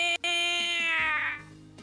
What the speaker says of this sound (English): Yowly cat noise.